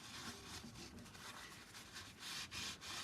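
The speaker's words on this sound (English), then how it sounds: "And we're going to rub away some of the paint." Cloth or fingers rubbing paint off a stencil laid on a homemade gelli-style print surface, a soft continuous scrubbing hiss with slight strokes, close and quiet, no voices.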